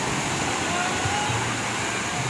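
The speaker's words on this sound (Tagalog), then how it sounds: "Ang kagandahan, malakas ang alon." Strong sea waves at a beach during high tide roar in a loud, steady wash of surf with no distinct breaks between them.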